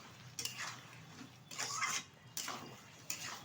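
Fried chicken is stirred into masala in a pan for chili chicken, with a faint series of spoon scrapes and clinks against the pan in irregular strokes.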